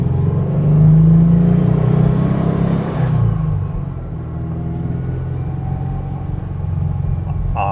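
A 1959 Porsche 356A with a 1720 cc big bore engine revs up, a loud close rumbling drone that rises and then settles into a steady idle.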